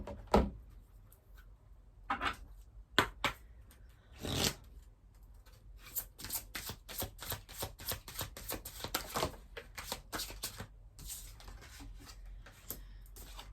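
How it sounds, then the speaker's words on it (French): Mary Magdalene oracle cards being shuffled by hand, rapid papery riffles and flicks in irregular bursts, close and soft, with no talking. "On va prendre quelques cartes de l'oracle de Marie-Madeleine pour compléter."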